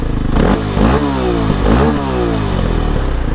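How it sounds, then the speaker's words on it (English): Kawasaki KLX230 dual-sport motorcycle on its stock exhaust, revved up close in several sharp bursts, each rising and then falling back toward a rough idle. "let me get you guys an exhaust clip."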